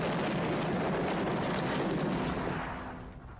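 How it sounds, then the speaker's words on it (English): Artillery fire in a dubbed war drama about Mirza Koochak Khan, a loud, sustained rumbling barrage that fills the scene and then slowly fades away. "The artillery started again."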